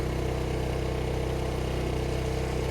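An RV generator runs steadily close by, a continuous mid-pitched engine drone with a low harmonic hum, holding an even level throughout.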